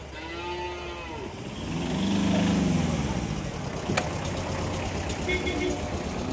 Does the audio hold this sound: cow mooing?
yes